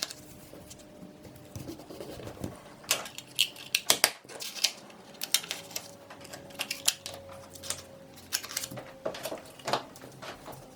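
A paper border being cut off around a mounted 2-D element for display, heard as crisp, close snips and paper rustles at an irregular pace, with scattered louder clicks and handling sounds and no talk.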